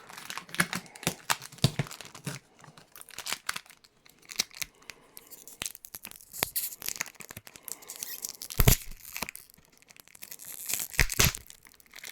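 Packing tape ripped off a cardboard package box in repeated quick, crackly tearing bursts, close and fairly loud, with brief pauses between pulls.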